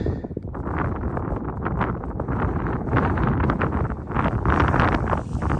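Strong wind gusting across an exposed mountain summit on Little Haystack, buffeting the microphone with loud, continuous roaring and rustling throughout.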